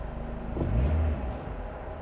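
A third-generation Honda Prelude engine runs rough at idle, a low uneven rumble with a brief swell partway through, heard close and steady with no talk.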